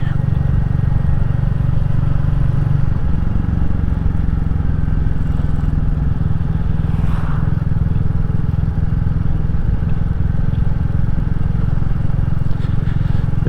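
A Royal Enfield Classic 350 motorcycle engine drones loudly and steadily, its pitch shifting as the rider changes down from fifth to fourth gear and pulls uphill, with wind rumble throughout.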